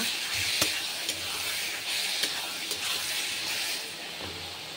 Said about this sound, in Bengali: আলু দিয়ে 2 মিনিট নেড়ে নেব।